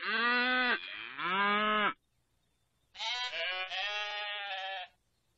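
Animal call imitating a cow's moo: two long drawn-out lowing calls, a pause, then a higher, longer bleating-like call, loud and close with no talking.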